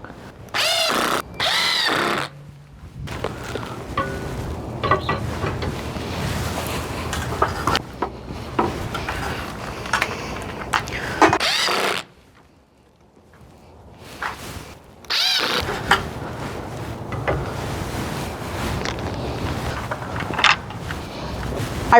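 A power drill drives fasteners for hanging basket brackets outdoors, several loud whirring bursts broken by short pauses and a longer quiet gap, with handling noises between.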